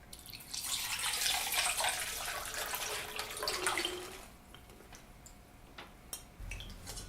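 Soaked almonds drained of their overnight soaking water, a steady close splashing and trickling of water for about four seconds, then tapering into quieter drips and small clinks.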